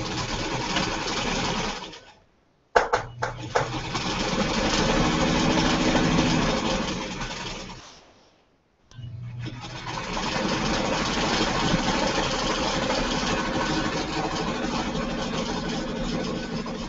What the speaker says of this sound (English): put her on top and sew